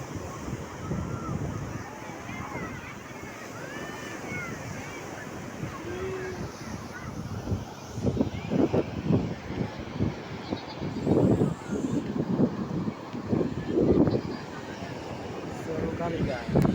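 Waves and wind at a beach in Matang Rayeuk, Peudawa, East Aceh, where kites are flown, with steady surf and gusty wind noise on the microphone, and voices talking under the roar.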